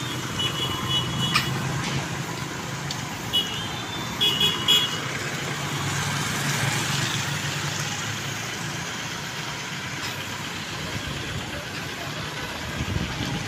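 Traffic in a town in Cateel, Davao Oriental: cars and trucks idle and pass at moderate distance in a steady rumble, with a short horn toot and scattered background noise.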